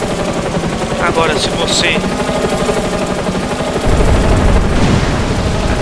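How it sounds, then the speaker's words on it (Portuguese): Rapid gunfire from enemies shooting in GTA San Andreas, dense rattling bursts like machine-gun fire with engine rumble beneath, loud and continuous, while someone talks over it. "estão atirando"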